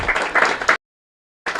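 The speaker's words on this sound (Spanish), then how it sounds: "Un fuerte aplauso entonces para el Señor." A church congregation claps together at a Mass, a brisk burst of dense applause that cuts off abruptly, then resumes after a short silence.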